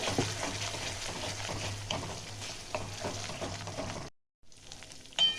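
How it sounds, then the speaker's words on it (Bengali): Spice paste for a Bengali dohi potol fries and is stirred in a pan over medium heat, a steady close sizzle with scraping stir strokes, cutting out briefly near the end before resuming. "মশলাটা কষাবো আর একটু, আর 1 থেকে 2 মিনিটের মতন।"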